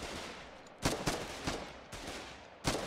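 Artillery guns firing in the war video game Foxhole, several booming shots spaced irregularly across the span, each a sharp loud burst with a short decay over steady background noise.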